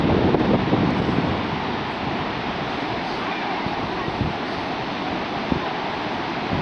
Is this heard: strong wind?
yes